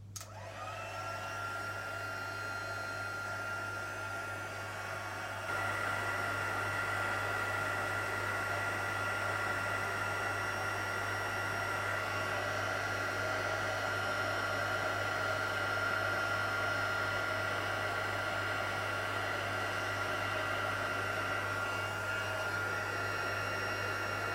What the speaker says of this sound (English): I'm going to heat that with my heat tool as well